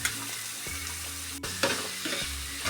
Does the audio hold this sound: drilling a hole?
no